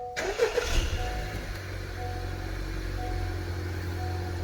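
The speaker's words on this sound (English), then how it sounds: "I'm going to start the car" A car engine cranks and catches in a short burst, then settles into a steady low idle that hums quietly and evenly with no voices.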